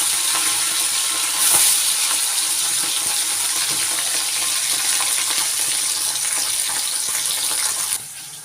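Bata fish sliding into hot oil in a kadai set up for a mustard-poppy curry, with a steady, close, loud broadband sizzle running almost continuously before it drops off sharply near the end.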